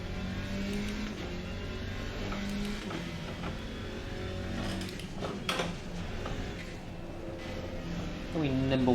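Alpine race car engine in Assetto Corsa Competizione hums and shifts through gears under the race, fairly quiet with a brief rising whine near the end; someone talks alongside.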